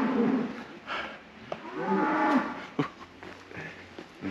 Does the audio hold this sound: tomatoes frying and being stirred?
no